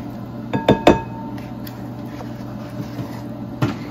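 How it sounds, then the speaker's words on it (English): A whole container of food is tipped into a bowl: a quick cluster of three hard clinks and knocks, then quieter scattered taps and one last clatter near the end, close up and without talk. "So we're just gonna go ahead and throw this entire container into my bowl"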